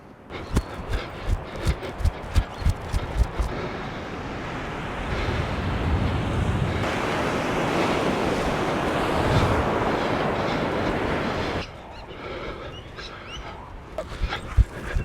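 Ocean surf at Port Macquarie, a steady broad wash of breaking waves rolling in for several seconds, opening and closing with footsteps and a dog's movement nearby outdoors.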